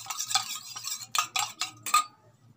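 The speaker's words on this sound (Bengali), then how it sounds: "আমি একটা বাটিতে অল্প জল দিয়ে নিয়েছি, নিয়ে তার মধ্যে আগার আগার পাউডারটা দিয়ে গুলে নেব।" Agar agar powder being stirred into a little water in a bowl, with a spoon clinking and scraping in a quick series of bright taps, the strongest strokes bunched near the end.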